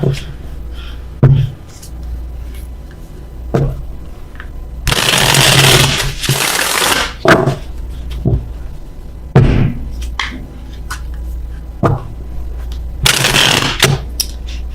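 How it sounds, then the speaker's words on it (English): Tarot cards are shuffled in several bursts, two long riffling passes and a few short flicks and taps in between, close and crisp. "If I can shuffle."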